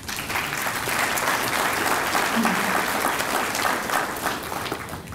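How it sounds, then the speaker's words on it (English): An audience at a police academy graduation ceremony breaks into sustained, even applause from many hands, filling the hall steadily at moderate volume, with a few voices faintly mixed in. "So give yourselves a round of applause."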